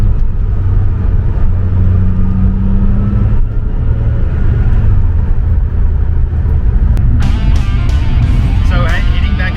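A Porsche 993 Twin Turbo driven fast makes a steady, loud engine drone with a rising tone. Road and wind roar builds toward the end.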